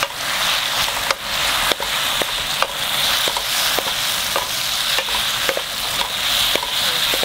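Black pepper garlic shrimp sizzle in a frying pan as they are stirred, with a constant loud fry broken by repeated sharp scraping and clacking strokes of the utensil.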